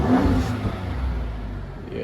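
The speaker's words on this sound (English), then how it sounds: "Let's rev this thing up to see what it sounds like." A Ford Raptor engine is revved on a Copart auction lot, giving a fairly quiet, steady low rumble and whir that swells briefly and then settles, with no loud, aggressive bark.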